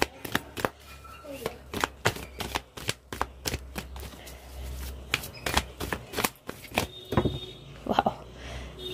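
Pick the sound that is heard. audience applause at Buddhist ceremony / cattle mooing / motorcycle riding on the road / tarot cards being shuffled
tarot cards being shuffled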